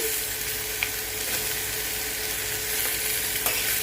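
Chopped bottle gourd (lauki) frying in a pan for a papad curry, a steady close broadband sizzle with occasional light utensil ticks, continuous throughout without voices.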